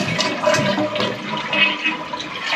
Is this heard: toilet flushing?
yes